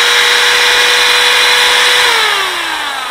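A power drill whines loudly and continuously up close, trigger locked on, its high-pitched motor tone holding steady before slowing slightly toward the end.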